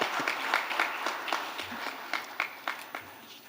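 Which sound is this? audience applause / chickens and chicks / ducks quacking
audience applause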